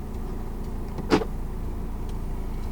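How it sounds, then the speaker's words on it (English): A single short clunk of the electronic central locking on a 2020 Volvo XC90 T8 Twin Engine AWD Inscription Plus, heard once at close range against a steady low hum, with no talking. "Electronic central locking."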